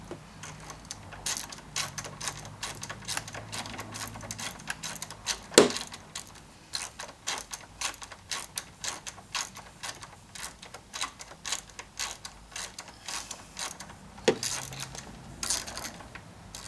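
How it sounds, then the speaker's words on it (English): Steady run of small metallic clicks from an 8mm socket ratchet loosening the battery ground-lead bolt on a Kawasaki Concours 14 motorcycle, close and fairly quiet, with two sharper clanks along the way and no talking. "take an 8mm socket and we're going to loosen this bolt right here"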